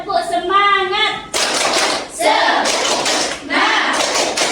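A classroom of students performs a 'tepuk semangat' cheer: a chanted vocal line, then bursts of loud rhythmic clapping in patterned groups, alternating with shouted voices.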